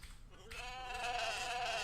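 A single wavering sheep bleat, drawn out and fairly loud, rising in from a quiet background and holding steady for over a second.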